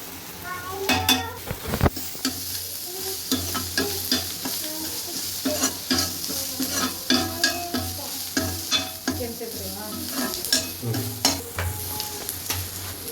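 Garlic frying in a kadai with a continuous hiss of hot oil and regular scraping stirs of a spatula against the metal pan, close and fairly loud, with an occasional clatter of utensils.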